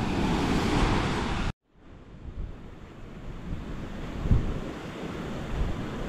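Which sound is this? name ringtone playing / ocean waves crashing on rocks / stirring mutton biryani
ocean waves crashing on rocks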